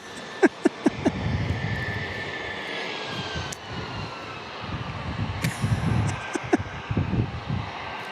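An Airbus airliner at San Diego International Airport sounds as a steady jet engine roar in the middle distance, with a shifting whine and several sharp clicks and knocks nearby.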